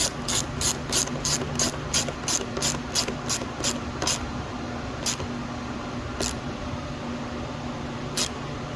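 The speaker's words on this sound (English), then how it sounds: "let's secure these hose clamps down to the intake pipe in here and here." Ratchet tightening hose clamps on a Jeep Wrangler JL intake pipe, a fast regular run of clicking strokes for about four seconds, then three slower single clicks, close up over a low steady hum.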